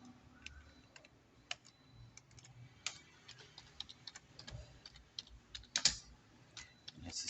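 Quiet typing on a computer keyboard while entering a company name, a scattered run of soft key clicks and taps at an uneven pace, close by and without speech.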